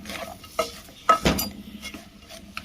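Chicken egg fried rice being stirred in a pan, with a few scrapes and clinks of a utensil against metal and a soft sizzle between them, close and moderately quiet.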